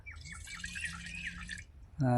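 Water pours steadily into a tumbler for a second or two with a gurgling splash while making nannari sarbath, then a voice starts speaking.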